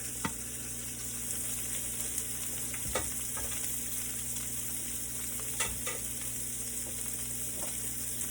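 Shrimp sautéing in butter in a pan gives a steady, close sizzle with occasional light scrapes and stirring taps, no talking.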